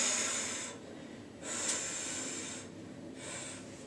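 Slow, audible breaths during a yoga class, three long airy exhalations with quieter pauses between them, close and alone without talk.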